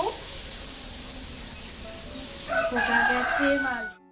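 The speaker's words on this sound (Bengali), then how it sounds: "সেই বাড়িতে মুরগি পোষে তো সারা দিন এত পরিমাণে ডাকে" Chickens kept at a neighbouring house can be heard, and a rooster crows toward the end from a moderate distance. The crow rises over a soft, steady background hum.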